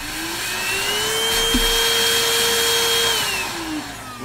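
A MOOSOO U1400-PLUS 1400W upright pet vacuum cleaner runs with a steady, loud motor whine that holds for several seconds, shifts pitch once and then tapers slightly at the end.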